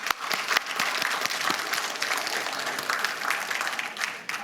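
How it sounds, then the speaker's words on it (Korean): A church congregation at a Wednesday service breaks into sustained applause, a dense even patter of many hands clapping for several seconds, fairly distant and without speech. "이쪽은, 우리 이들을 박수 칩시다."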